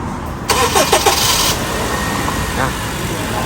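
A car engine cranks and catches on a J20 car being checked in a workshop. A brief, loud starter churn is followed by a steady running drone, with people talking over it.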